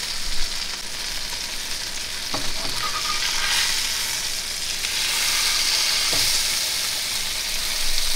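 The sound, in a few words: blackened fish fillet searing in a pan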